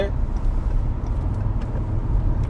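Maruti Brezza CNG facelift cruising in sixth gear at about 80 km/h and 2000 rpm, heard from inside the cabin as a steady low engine drone blended with road and tyre rumble.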